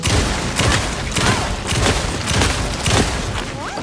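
Gunfire in the video game Alan Wake 2, a steady run of loud shots and booms spread across the whole stretch with no pauses, with a few brief voice-like sounds in the mix.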